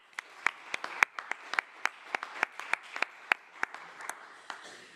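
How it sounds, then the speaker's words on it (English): Sparse applause at an aviation industry symposium: a handful of distinct, crisp hand claps in a loose, irregular rhythm, fairly quiet and with gaps between them. "A big round of applause to all of you."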